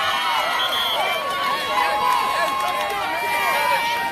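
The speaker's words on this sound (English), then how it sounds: "The Pittsgrove crowd is psyched up." Home crowd at a high school football game between Pittsgrove and Penns Grove, a dense continuous roar of cheering, shouting and babble heard close and loud without a break.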